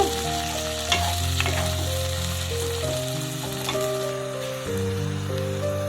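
Vegetables for a milk shukto fry in a pan with poppy seed paste and a little water, sizzling steadily while a spoon stirs them, accompanied throughout by soft background music, close and with no speech.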